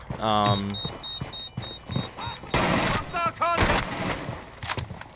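Gunfire in Rainbow Six Siege, loud bursts of shots and thumps scattered across the moment, mixed with game sound effects and chimes while a person talks over it.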